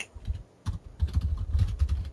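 Quick, uneven keystrokes on a computer keyboard clatter up close in bursts, with a brief pause early on before the tapping resumes steadily.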